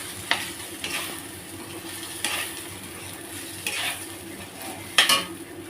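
Ginger paste being stirred in a hot frying pan, a steady sizzle broken by several sharp metallic scrapes and clinks of a utensil against the pan at irregular intervals, close by.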